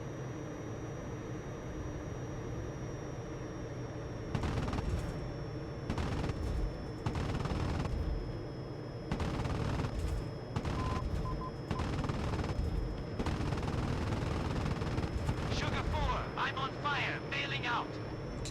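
Aircraft machine guns in the IL-2 Korea flight combat game fire in repeated bursts over a constant engine drone, loud and close, with stretches of sustained shooting.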